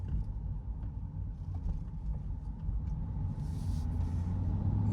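A Chevrolet Corvette C8 driving on a short road trip, heard from inside as a steady low engine and road rumble at moderate level with no talking.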